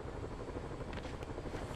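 Drone hovering and flying in the Marvel's Spider-Man video game, a steady whirring rotor buzz that stays fairly close and even throughout.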